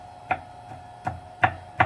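Garlic chopped finely with a knife on a board, sharp chops landing in an uneven rhythm, about four clear strikes with a steady low hum running underneath.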